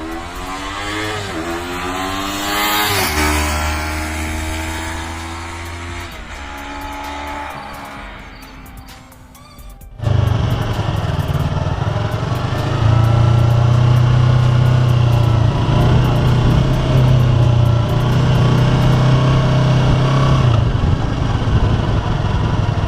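A 2019 Yamaha YZF-R3 motorcycle engine under way, a quieter passage giving way after ten seconds to a loud, steady engine drone with shifting pitch and wind noise, no talk.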